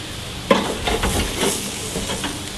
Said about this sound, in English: Cook those steaks!